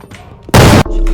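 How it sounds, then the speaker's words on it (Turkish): A sudden loud, harsh burst of noise from a bomb exploding in a video game cuts in for a moment, with a faint voice before it. "Ay ben patladım."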